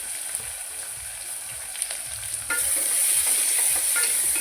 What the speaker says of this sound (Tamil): லேசாக வேகட்டும். வெங்காயம் வெந்துருச்சு.